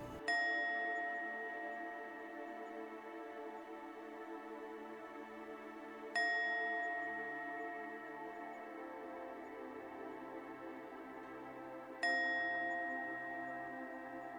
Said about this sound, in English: You will hear a series of 3 chimes starting now.